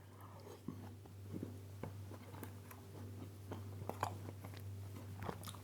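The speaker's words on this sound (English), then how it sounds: "When I bite down, you can hear me crunching on the frozen ice cream." Faint crunching bites into frozen ice cream, several soft irregular cracks and chewing sounds close to the mouth against a steady low hum.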